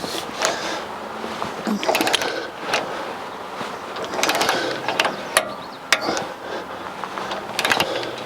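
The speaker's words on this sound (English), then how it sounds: "These bolts won't be moving, so we're going to torque these down to 75 foot-pounds per the instructions." A torque wrench ratchets down trailer hitch bolts on a Reese weight distribution and sway cam lock setup, tightened to 75 foot-pounds, with bursts of sharp clicking ratchet strokes separated by short pauses.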